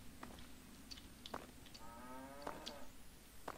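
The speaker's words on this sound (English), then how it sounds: "It just mooed. Did you hear that? It mooed." A cow in the video game Fallout 3 moos a couple of times at moderate distance over a steady low background hum, with some faint clicks and rustles.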